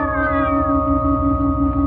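Cats meowing and caterwauling in a radio drama scene, a loud sustained yowling chorus with wavering tonal cries over a steady low rumble, no talking.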